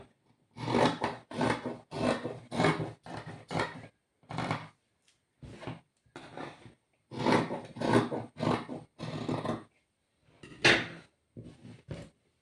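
Scissors cut through blouse fabric in a series of crisp, close snipping strokes, grouped in quick bursts separated by short pauses.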